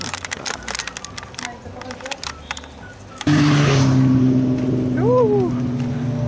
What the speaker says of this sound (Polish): Motory nas mijają